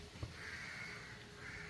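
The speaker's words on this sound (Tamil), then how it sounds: "அது அந்த காக்கா இல்ல இந்த காக்கா இந்த காக்கா" A crow cawing outdoors near a home, one short sharp call followed by two longer drawn-out caws, fairly clear over a steady background hum.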